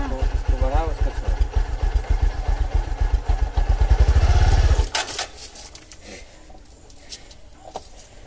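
A motorcycle engine runs during a learner's riding lesson, rumbling loudly and revving in a pulsing rhythm for about five seconds before cutting out, with voices talking over it.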